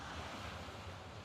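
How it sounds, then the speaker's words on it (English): Floodwater surging during a Vermont flood gives off a steady, faint rushing roar with crosswise waves, blended with wind buffeting the microphone and no pause throughout. "Look at the crosswise waves."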